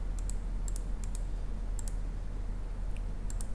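Faint, sparse mouse clicks, about eight short ticks scattered unevenly, while operating TopSolid 7 CAD software, over a steady low hum of room or computer noise.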